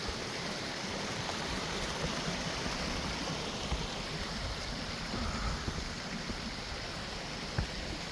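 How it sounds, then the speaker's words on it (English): A waterfall on Grove Creek pours in a steady, dense roar that stays constant and loud, with no voices over it. "Waterfall."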